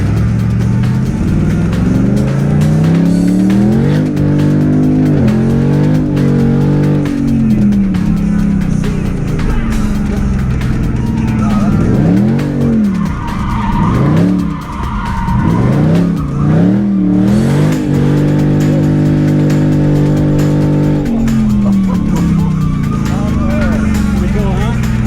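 A brand new Dodge Challenger giving a thrill ride at the 2016 Carlisle Chrysler Nationals revs hard and repeatedly, with squealing, skidding tires running through the whole stretch, loud and close.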